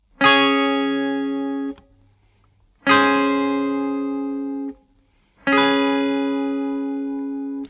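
Three separate guitar chords, a root-position triad, a major seventh and a dominant seventh, strummed one after another, each ringing out clearly for about two seconds before stopping, with short silences between.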